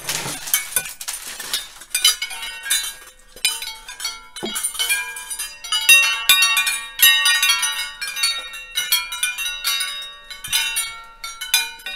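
A repaired wind chime rings with a steady run of bright, overlapping metallic tones, loud and close, its strikes clustering irregularly and sustaining like distant church bells.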